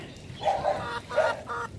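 A hen clucks in a few short, close bursts, with brief pauses between them and no other sounds.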